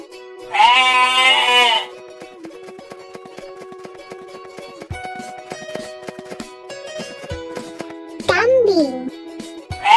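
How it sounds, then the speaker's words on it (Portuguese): A goat bleats twice, first a long wavering call and later a shorter one, both loud and close over a quiet tonal background. "Cabra."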